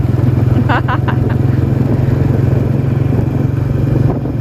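A motorcycle ridden at night through the town of Sam Nuea, its close, steady engine drone running unbroken throughout, with a few brief voice-like sounds near the start.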